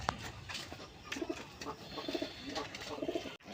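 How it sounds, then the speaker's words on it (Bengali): Pigeons kept for sale, local and foreign breeds, coo in a steady run of soft throaty phrases, close and moderately loud over a light background murmur. "বন্ধুরা, এখানে আরেক জোড়া কবুতর আছে"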